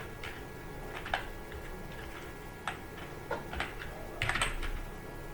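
Scattered keystrokes on a computer keyboard while Python code is typed, soft uneven clicks with brief pauses and a small cluster of quicker taps near the end, close and fairly quiet against a low steady hum.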